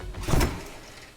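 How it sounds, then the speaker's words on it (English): A supercar door swings open with a short, soft mechanical whoosh and a muted clunk that swells and then eases away. "That's probably the coolest door I've ever seen in my life."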